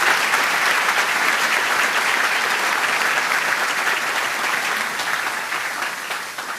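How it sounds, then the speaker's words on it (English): Sustained applause from a live audience honoring board of trustees members at a formal gathering, dense steady clapping throughout that slowly tapers toward the end, with no talk over it. "Give them a round of applause."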